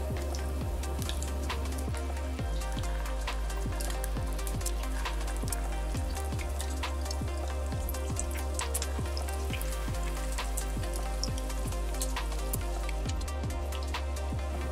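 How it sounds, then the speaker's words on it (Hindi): Beef shami kebabs frying in hot oil over medium-low heat, a constant close sizzle with crackling, popping bursts, steady and unbroken beneath a low background hum. "अब ऐसे जो है वो हम अपने कबाब डाल के और इसमें झटपट से जल्दी से फ्राई कर लेंगे मीडियम टू लो हीट पे"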